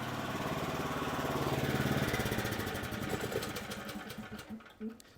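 A Predator 459cc small engine on a skid-mounted pressure washer starts by electric start, a steady close mechanical whirring and chugging that gradually eases off, ending in a few irregular knocks, with no one talking.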